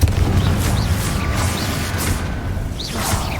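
A fiery Confringo spell blast in the Hogwarts Legacy video game, a sustained booming rumble with whooshing magical effects running through the whole moment.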